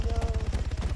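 Gunfire in the military shooter Arma 3 during a fight in the town of Kavala: a fast, steady machine-gun rattle of evenly spaced shots, close and loud, lasting the whole brief moment.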